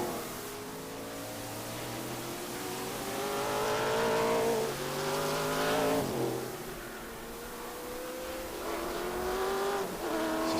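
Trans Am TA2 race cars lap during qualifying on a road course. Loud engine notes rise and fall as the cars accelerate and downshift, and several pass by in turn with a brief tire squeal, and no one speaks.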